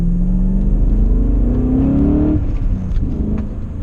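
A BMW's engine drones steadily while driving, its pitch climbing as it accelerates and then dropping off and settling into a lower hum, loud and close throughout.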